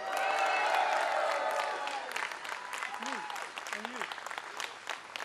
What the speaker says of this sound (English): let's give a massive round of applause for the non-Muslims here today.